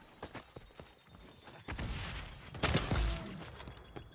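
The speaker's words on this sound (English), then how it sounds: "Throwing frag." Frag grenade in the XDefiant shooter: scattered clicks and light gunfire, then a heavy low-end burst and a louder blast near the end, all at moderate volume with no talk over it.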